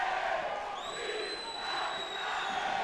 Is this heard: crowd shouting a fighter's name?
yes